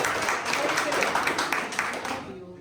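An audience applauds to approve a motion at a Salmia East general body meeting, a dense, steady clapping throughout that fades out near the end.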